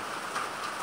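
Heavy rain pours down in a steady, even hiss that fills the short moment, with no voices or other sounds.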